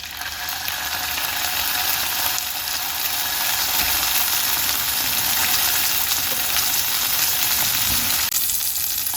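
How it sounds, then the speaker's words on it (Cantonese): A salmon fillet sears in a hot pan, flesh side down, giving a loud, steady sizzle and crackle that runs unbroken throughout, close up and with no voices. "好啦，咁呢度嚿魚煎咗1分鐘單面啦"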